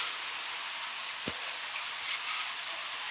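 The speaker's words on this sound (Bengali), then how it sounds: "এত পরিমাণে বৃষ্টি হচ্ছে কি বলবো" Rain falls steadily as a faint, even hiss, with one brief tap standing out.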